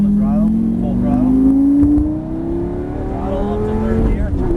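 A race car engine holds a steady, loud drone at full throttle on a track, its pitch climbing gradually as it accelerates through the gears, with no talk over it.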